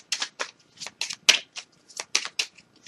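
Tarot cards shuffled by hand in quick crisp riffles, about a dozen short papery bursts in an uneven rhythm, close and moderately loud with no talking.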